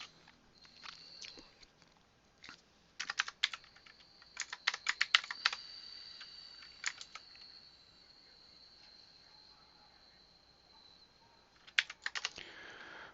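Computer keyboard keys pressed in scattered bursts during a game, quick close clicks in clusters between quiet pauses, soft and light.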